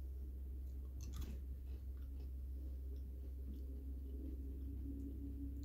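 Someone chews M&M's Popcorn candy close to the mic, a quiet, steady crunching over a low hum.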